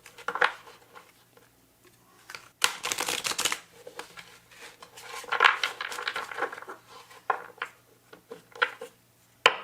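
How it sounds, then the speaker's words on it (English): Rumi oracle cards being shuffled by hand, bursts of papery riffling and flicking in uneven bouts, with a louder flurry partway through and quieter rustles between, close by. "Let's shuffle these Rumi cards a couple times."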